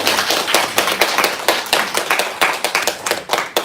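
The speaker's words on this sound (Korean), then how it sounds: "엄마 아빠를 생각하면서 박수로 한번." Church congregation clapping during a Sunday worship service, a steady run of close, bright hand claps lasting a few seconds with no talking over it.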